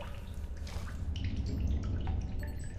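In the video game The Solus Project, empty water bottles are filled with water, producing a soft, steady trickle and dripping flow under a low rumble.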